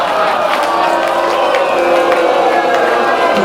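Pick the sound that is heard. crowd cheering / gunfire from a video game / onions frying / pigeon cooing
crowd cheering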